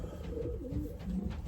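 Racing pigeons in a loft coo softly in low rolling phrases, close by and without speech, over a steady background hiss.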